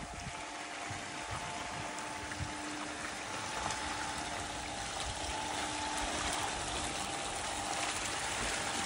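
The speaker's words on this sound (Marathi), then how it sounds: "वाऱ्याने पवनचक्की फिरल्यानंतर तो मुख्य रॉड फिरतो" A wooden windmill mechanism in the Netherlands pumps water, giving a steady, continuous gushing and rushing of water that stays fairly even throughout, with no voices.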